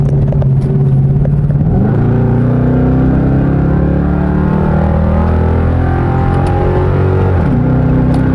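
A Dodge RT with its mid mufflers cut roars loud and close, a deep rumbling exhaust drone that swells as the revs climb twice, with a rough clattery edge throughout.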